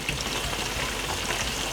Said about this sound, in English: as you can see, it's frying.